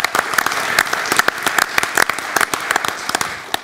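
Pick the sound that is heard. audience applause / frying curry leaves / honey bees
audience applause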